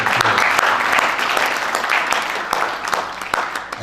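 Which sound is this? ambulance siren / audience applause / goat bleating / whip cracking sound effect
audience applause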